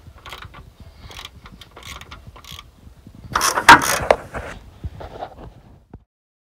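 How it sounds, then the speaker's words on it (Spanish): A socket wrench with a 10 mm socket backs screws out, giving close, intermittent ratcheting clicks and mechanical rattles that build to a louder cluster midway before stopping. "Lo primero que deberemos hacer es extraer los tornillos de aquí, que son un vaso de la 10"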